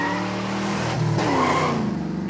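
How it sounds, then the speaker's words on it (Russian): A toy car's engine strains and revs continuously while the tires spin and squeal, digging into sand, loud and close, with no voices. "Моя машинка не едет, она зарывается. Мой двигатель не может справиться."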